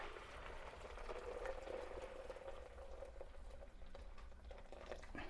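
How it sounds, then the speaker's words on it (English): Just-boiled water poured from a kettle into a pot of leek and potato soup, a steady, faint liquid rush with a thin gurgling tone running continuously without talk. "we're going to add in another litre of just boiling water"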